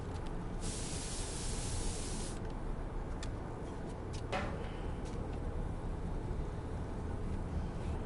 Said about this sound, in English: Throw some spray paint in.